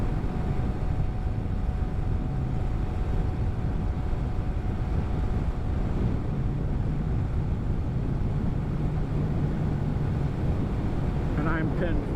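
A Honda Grom motorcycle runs pinned at full throttle on the road near 7,000 RPM, a sustained high engine drone blended with heavy wind rush, and a rider's voice briefly heard.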